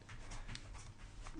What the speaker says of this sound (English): We're being visited by a puppy.